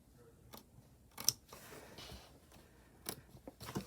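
Fabric is snipped by hand with scissors at a cutting mat, a few quiet, separate crisp snips spaced out over several seconds against a low, faint background.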